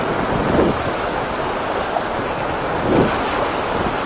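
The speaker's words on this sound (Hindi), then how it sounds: "पर इधर बहाव तेज है" The fast-flowing Narmada river rushes past in a loud, steady broadband wash of moving water, with slight surges, heard up close, mixed with wind buffeting and no voices.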